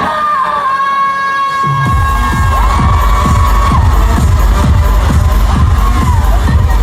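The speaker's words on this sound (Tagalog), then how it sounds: "Medyo humina yung sigawan ng crowd." Crowd of fans at an all-star basketball game roars and shouts continuously, loud and dense, while a deep rhythmic thumping pulses steadily beneath the cheering.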